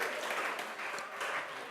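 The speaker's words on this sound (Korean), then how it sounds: "두 분 같이 하면 박수 한번 주시죠" Brief applause ripples through a seated audience at a teachers' training lecture for a summer Vacation Bible School, a soft, fairly even patter of many hands, moderately distant and quiet.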